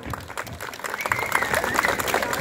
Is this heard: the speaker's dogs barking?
no